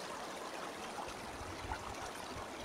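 Water current rushing through a gold prospecting sluice in a stream, a steady, even wash of flowing water with soft gurgles and no voices.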